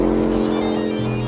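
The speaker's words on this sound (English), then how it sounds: "Now that you've experienced the sights and sounds of the Heffner Twin Turbo Gallardo" Heffner twin-turbo Lamborghini Gallardo LP 560 tuned to 900 hp, its engine a loud, steady, close drone with a brief pitch shift partway through.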